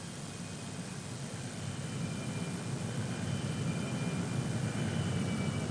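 Messerschmitt Me 262 turbojet fighter taxiing, a steady broadband jet whine and rush heard at a distance, fairly faint and growing slightly louder after the first couple of seconds.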